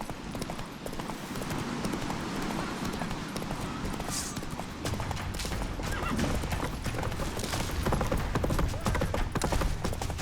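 Roach, Geralt's horse in The Witcher 3, gallops hard with steady rapid hoofbeats in a chase, a whinny breaking through over busy game noise, continuous and close throughout.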